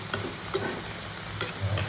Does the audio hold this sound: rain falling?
no